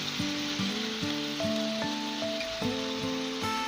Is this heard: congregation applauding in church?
no